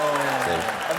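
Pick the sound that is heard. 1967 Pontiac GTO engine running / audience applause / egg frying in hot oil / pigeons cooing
audience applause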